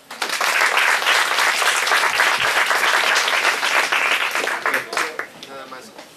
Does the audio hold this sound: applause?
yes